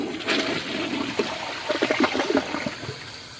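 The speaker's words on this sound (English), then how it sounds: "just like with any other new toilet, sometimes the flush alone will not remove the dust from the sides" A new Foremost Eco To Go toilet flushes in a steady rush of water, with gurgling and splashing building partway through, heard up close and with no voices.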